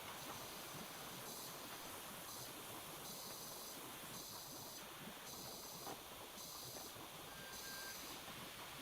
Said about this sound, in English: run over by the train again